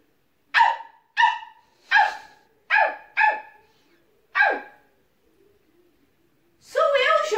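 A dog barks six times in sharp, separate bursts with short gaps, close and clear against a quiet background, ending in a louder, more ragged bark.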